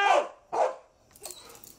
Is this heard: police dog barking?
yes